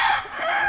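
A rooster crowing on a poultry farm, a short, bright, strained crow cut off mid-call.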